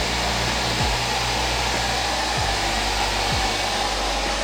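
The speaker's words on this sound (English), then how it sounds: "sometimes I would blow dry the hairspray that I've just done to make sure it's a solid hold" A hair dryer runs steadily at close range, blow-drying hairspray on a high ponytail, a continuous loud whooshing roar with a few brief dips in its motor pitch.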